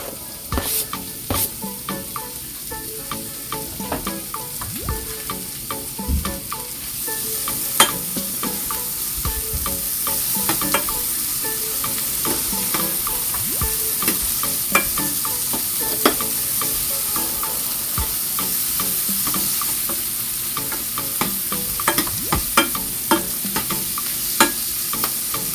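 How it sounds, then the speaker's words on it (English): A small onion sautés in butter in a pot for a seafood boil, giving a steady, loud sizzle and crackle throughout with occasional stirring clinks and scrapes, no voices. "For about a minute, you saute your onion."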